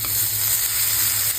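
Chopped vegetables with garlic for veg momos hit a hot pan on medium flame, producing a loud continuous close sizzle with no talk.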